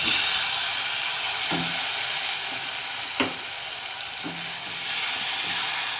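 Tomatoes sizzle as they fry in spiced masala in a pan for a green bean and potato sabzi, with a steady hiss and a few soft stirring clicks.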